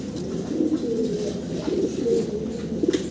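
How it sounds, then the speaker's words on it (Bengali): A pair of black American Komorner pigeons coo in low, throaty, repeated rolls, close and continuous with no talking. "1500 টাকা দর্শক আপনারা পাচ্ছেন আমেরিকান কর্মনার এই ব্ল্যাক কালারের জোড়াটা।"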